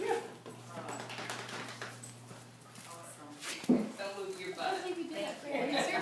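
A dog whimpering and yipping amid people talking indoors, with short high whines scattered through the chatter and a sharper bark-like burst midway.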